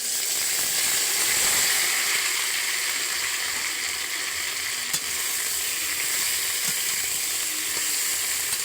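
Elephant apple (chalta) pieces fry in hot oil with panch phoron, giving a loud, continuous bright sizzle that stays even throughout with a few faint clicks.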